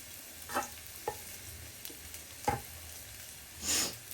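Onions going into oil that is not yet hot, for a quick potato dum biryani: a soft, low hiss with a few faint clinks and stirring scrapes, ending in a brief louder sizzle burst; no talking.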